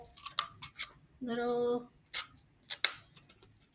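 Scissors snip through cardboard in a few crisp, irregular cuts, with a short spoken word and a brief hum in between.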